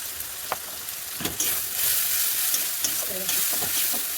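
Chilli powder, turmeric and cumin fry in hot oil in a pan with a steady sizzle, while a spoon scrapes and stirs now and then, giving sharp clicks.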